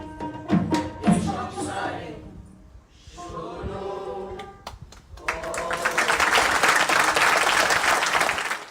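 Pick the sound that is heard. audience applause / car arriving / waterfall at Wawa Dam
audience applause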